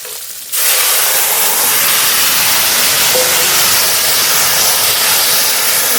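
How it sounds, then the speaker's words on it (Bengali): Curry poured into a hot pan bursts into a loud, sudden hiss that settles into a steady, roaring sizzle, close and continuous with no voices. "এবার তরকারি ঢেলে দেবো"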